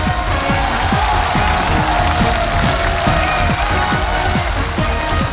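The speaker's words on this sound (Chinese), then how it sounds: "也让我们再次掌声请上他们" An audience at a Guinness World Record event applauds continuously, with dense, steady clapping and faint crowd cheering filling the hall, loud and even from start to finish.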